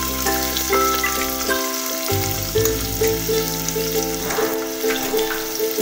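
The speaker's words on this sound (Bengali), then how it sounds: "এবার আমি কেটে রাখা পেঁয়াজগুলো একটু তেলের উপর দিয়ে দেব।" Chopped onions hiss and crackle in hot oil in a pan while a soft, tender mutton curry is cooked, a continuous close sizzle under steady music.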